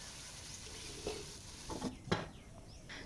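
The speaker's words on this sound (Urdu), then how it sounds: "یہ سب مسالے ڈال کے اسے تھوڑی دیر کے لیے بھونیں گے" Masala spices fry in oil in a pot of tomato gravy for handi kabab, giving a soft, low sizzle broken by a few brief stirring scrapes and knocks.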